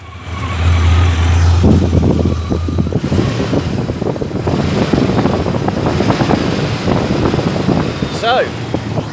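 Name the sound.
50th anniversary Range Rover engine running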